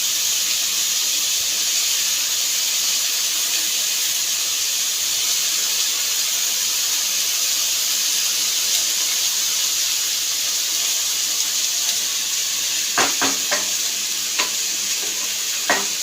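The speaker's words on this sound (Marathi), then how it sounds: "आता आपल्याला वांगी टाकायची आहेत" Green spiny brinjal pieces frying in hot spiced masala in a pan, a loud continuous close sizzle and hiss throughout, with a few clinks of stirring near the end and no talking.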